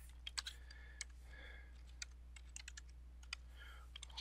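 Quiet typing on a computer keyboard while entering a MAC address: irregular bursts of light key clicks spread over a few seconds, close and clear over a steady low hum.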